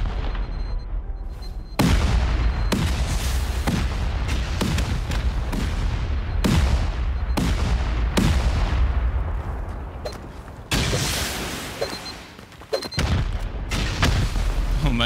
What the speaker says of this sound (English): Oh my god, and he rockets me.